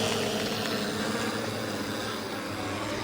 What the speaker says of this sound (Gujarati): ડ્રોન ઉડાડી નાખ્યું છે।